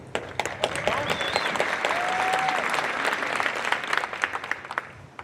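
A crowd at a senior class graduation celebration applauds a graduating student, a dense bed of clapping with sharper individual claps standing out and a brief whistle or cheer over it, fairly steady throughout.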